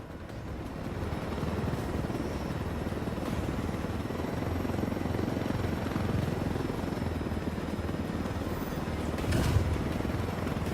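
A helicopter in the video game Ghost Recon Wildlands gives a steady, loud rotor and engine drone throughout, with a brief thump near the end and no talking.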